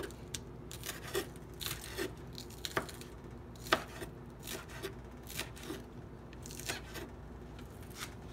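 Light, irregular knife strokes on a board as food is chopped with a tiny little knife for home-cooked egg fried rice, soft scraping taps spaced about every half second, close and quiet with no talk.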